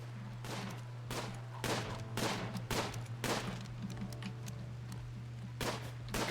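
Repeated gunshots in Rimworld crack out in sharp, separate bursts at a fairly regular pace, moderately loud over a constant low hum.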